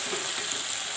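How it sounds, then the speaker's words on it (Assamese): Cauliflower frying with potato and onion in hot oil over a high flame, a steady close sizzle with no voices. "ফুলকবিখিনি আলু আৰু পিঁয়াজৰ লগত ভালদৰে সেইদৰে ভাজি ল'ম"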